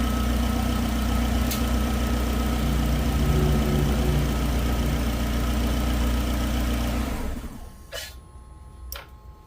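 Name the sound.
car engine idling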